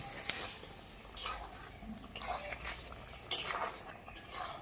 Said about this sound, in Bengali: এখন ভালো করে নেড়ে ছেড়ে দেবো